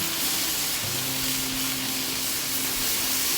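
Chicken thighs sizzle on a Blackstone griddle, a steady, dense frying hiss running continuously with a faint low hum underneath and no voices.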